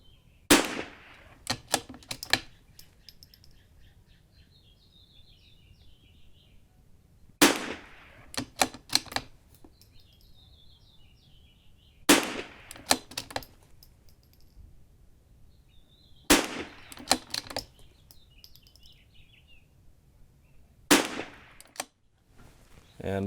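Rifle shots at an outdoor shooting range with steel targets: loud, sharp reports spaced several seconds apart, each followed by a quick cluster of echoes and a faint metallic ping, over quiet background.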